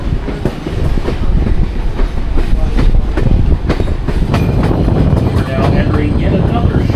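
A train hauled by steam locomotive 2102 rolls steadily along the rails between Penobscot and Nesquehoning, with a constant low rumble and rhythmic clicking of wheels over joints, heard close from on board.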